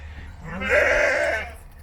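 A Sakız breeding ram lamb gives a single drawn-out bleat, close and fairly loud, lasting about a second over a quiet farmyard background.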